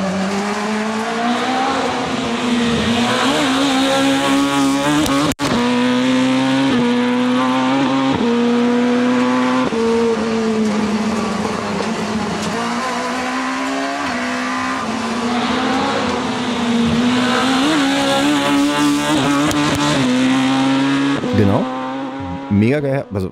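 An Opel Corsa engine accelerates hard through several gear shifts. Loud, close revving climbs in pitch, then drops at each shift, repeating across the run.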